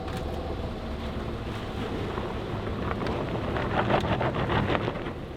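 A boat motor drones on open water, with steady wind buffeting and splashing that grows slightly louder toward the end.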